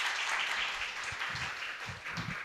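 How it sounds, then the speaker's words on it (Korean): Audience applause at an education forum as guests are introduced, with many hands clapping steadily and evenly throughout and a few low thumps near the end. "박수 부탁드리겠습니다"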